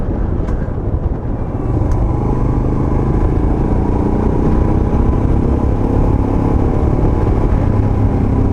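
A 2021 Royal Enfield Himalayan is ridden along a countryside road. Its engine drones loud and steady with a constant rumble and wind roar, and there is no talking.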